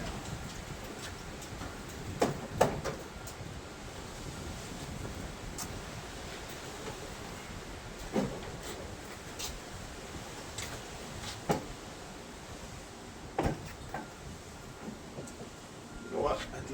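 Strong wind blows outdoors in New Mexico as broadband gusty rushing and buffeting, with scattered clicks and knocks of work on a Honda Civic nearby. Someone talks throughout.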